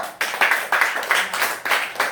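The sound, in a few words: class of pupils clapping hands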